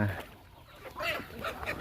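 A flock of farm chickens clucks near a rice field in short, irregular bursts. The calls come close and grow busier in the latter half.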